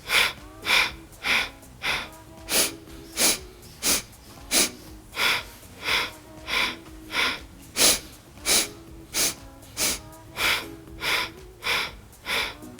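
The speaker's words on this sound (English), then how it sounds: "inhaling in 4 sniffs and exhaling in 4 sniffs" A person breathing in segmented sniffs during a Kundalini yoga exercise, about sixteen sharp rhythmic nasal pulses in an even, steady pattern, close and clear with no talking.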